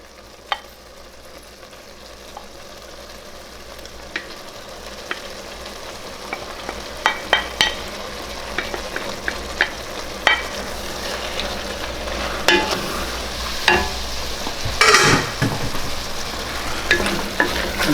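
Browned beef and pork go back into a pot of cooked-down bolognese sauce, giving a low steady sizzle that builds, punctuated by scattered scrapes and knocks of a spoon stirring, with no talking.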